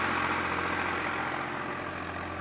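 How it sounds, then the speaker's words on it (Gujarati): A tractor hauling a trailer loaded with 2000 bricks runs its engine at a steady low idle, a continuous rumble heard alone at moderate distance. "જો આ ટ્રેક્ટર આવે છે 2000 ઈંટ ભરીને"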